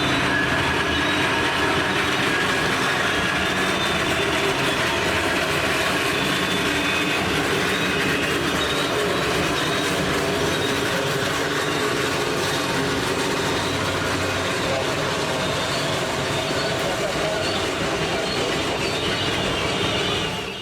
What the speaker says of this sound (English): Riding along with Train 263 as far as Gassets is the Green Mountain Extra